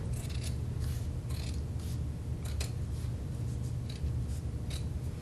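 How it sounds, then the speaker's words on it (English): Scissors cutting off a double felt seam, with a series of short crisp snips and scrapes heard close over a steady low hum. "And I'm just going to cut that off."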